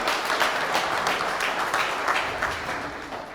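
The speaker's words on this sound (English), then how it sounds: "Big round of applause to the RiverPitch team" Audience applause for the RiverPitch team at the RiverPitch Live 2021 pitch event: a steady, dense wash of many hands clapping at once, sustained at an even level and fading slightly toward the end, with no voices over it.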